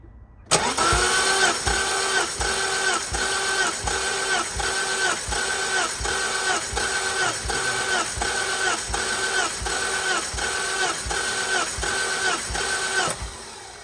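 A drift car's engine cranks on the starter during a cylinder compression test, a loud, steady, rhythmic chugging of about two beats per second that lasts some thirteen seconds before stopping.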